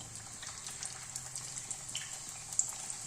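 Keema parathas shallow frying in a modest layer of oil in a pan, giving a steady soft sizzle with scattered pops and crackles throughout, moderately close and without talk.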